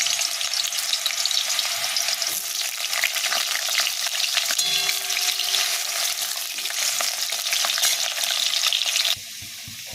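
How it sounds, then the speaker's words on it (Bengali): Potatoes sizzle loudly and steadily as they fry in hot mustard oil, with occasional scrapes of stirring. "এরপর আমি আলুগুলোকে লাল লাল করে ভেজে নেব"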